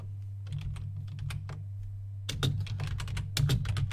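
Rapid, irregular keystrokes on a computer keyboard, close and clear over a steady low hum, with a brief lull before a denser flurry of typing.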